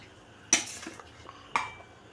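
Hot masala for a mutton dish being tipped and scraped into a mixer jar, with two sharp metallic clanks of a spoon against the vessel and softer scrapes between them, close up and without speech.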